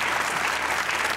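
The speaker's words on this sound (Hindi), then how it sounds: "तालियां" Studio audience applause on a Pakistani comedy talk show, a dense, steady burst of clapping filling the whole moment at even loudness with no voices on top.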